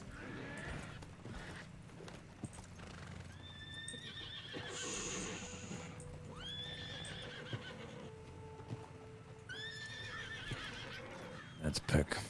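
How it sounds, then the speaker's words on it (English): Horses in the RedM western roleplay game neigh and whinny several times at mid distance, with hoof clip-clops and game ambience underneath while people talk over it. "I'm just trying to get these damn horses to calm down."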